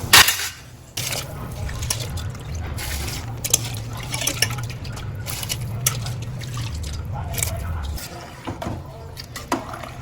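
Soaked rice is tipped into a pot of boiling water for chicken dum biryani, giving a steady rolling bubble and splash close by, with some talk over it.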